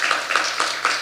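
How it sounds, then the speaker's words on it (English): A church congregation claps for a visiting pastor in a short, close burst of rhythmic clapping. "can we give Pastor O a big round of applause?"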